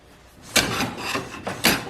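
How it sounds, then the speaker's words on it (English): Hand plane pulling shavings off a scrap piece of wood on a shooting board: two or three quick rasping strokes, each a bright swishing burst, close and clear with no talk. "with a little scrap piece I'm going to take some shavings"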